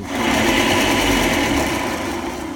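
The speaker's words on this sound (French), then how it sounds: "Et puis la petite ponceuse aussi, donc dans le même principe, en plus petit." A small electric sander whirs steadily at close range, a dense buzzing drone that holds constant for a couple of seconds.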